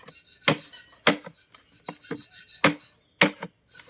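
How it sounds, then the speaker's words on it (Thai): Bamboo being chopped by hand, sharp woody thwacks landing in an irregular rhythm, about five or six hits close by with quieter scraping between them, no talking. "นี่ผมกลับมาสับนะ"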